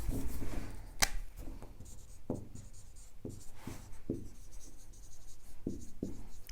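Chalk or marker writing on a board during a physics lecture on wave optics, a series of short scratchy strokes at an irregular pace, fairly close and moderately quiet, with no talk over them.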